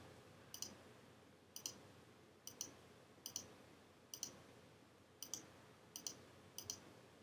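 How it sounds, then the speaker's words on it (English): A computer mouse clicks during a Starbound game session: soft, crisp clicks come in loose pairs, about a dozen over several seconds, at low level against faint background hiss, with no talking. "I'm sorry if you can hear me clicking in the background."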